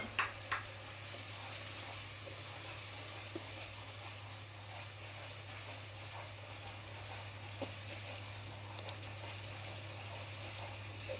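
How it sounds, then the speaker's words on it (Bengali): Spiced pangas fish for dopeyaja sautéing in a pan, a steady faint sizzle with an even hum underneath and occasional soft stirring clicks, no voices. "এখন আমি অল্প জালে এখন একটু কষিয়ে নেব"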